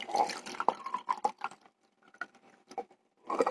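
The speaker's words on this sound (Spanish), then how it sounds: "voy a llenarme una taza de agua" Water pours into a cup in a room, with uneven splashing patters and drips, a brief quiet pause, then more pouring, fairly close and soft without talking.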